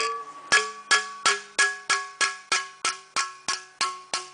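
A hammer strikes sheet metal off the dolly in a steady rhythm, about a dozen ringing metallic blows, each decaying quickly before the next.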